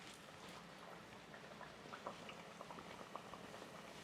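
A beef empanada bubbles and crackles steadily in hot frying oil, soft close popping with scattered small spatters and no voices.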